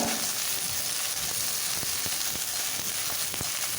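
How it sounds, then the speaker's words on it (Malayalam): Steady sizzle of eggplant frying in coconut oil in a pan, with broad hiss throughout, punctuated by a few soft clicks and pops, no voices. "നമ്മൾ നേരത്തെ കഴുകി വെച്ചിട്ടുള്ള വഴുതനങ്ങ ഇട്ട് കൊടുക്കാം ഒരു അഞ്ച് മിനിറ്റ് നമുക്കൊന്ന് ഫ്രൈ ചെയ്തെടുക്കാം"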